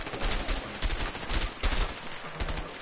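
Gunfire in a video game shootout against an armored enemy: repeated sharp shots in quick bursts, loud and close, with several spaced volleys across a few seconds.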